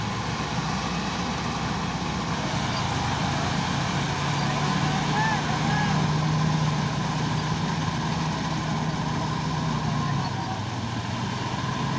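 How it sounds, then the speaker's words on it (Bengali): A vehicle engine labours under load in a low gear at night, a steady loud low drone with a faint tonal whine, while people speak over it. "গাড়িটা লোড নিচ্ছে ছোট গিয়ারতে চালাতে হবে"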